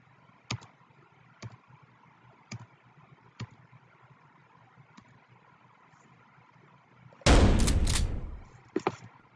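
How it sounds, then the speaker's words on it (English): Shotgun fire in the video game Paint the Town Red: a handful of sharp, evenly spaced blasts, then a loud dense burst of shots and impacts near the end, with a couple of trailing cracks. "I want to just show you the slaughterfest that I can do now with this shotgun"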